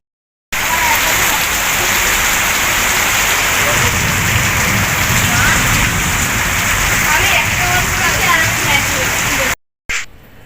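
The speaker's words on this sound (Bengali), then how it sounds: "বৃষ্টি শুরু হয়ে গেছে দেখো" Steady heavy rain pours down on surfaces nearby with an even hiss and dense patter, voices murmuring underneath, before it cuts off abruptly.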